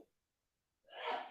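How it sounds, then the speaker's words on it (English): A loud single sneeze from an adult man bursts out suddenly after near silence, close and sharp with a breathy tail. "my father-in-law be sneezing hella loud"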